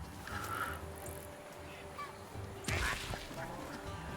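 In the video game Celestial Empire, ducks at a duck farm give faint, scattered honks and quacks over a low, steady game soundscape.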